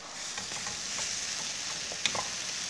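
Pork rice noodles with bean sprouts and chives stir-frying in a pan with steady close sizzling and light scraping stir strokes, one sharper clink near the end, no talk.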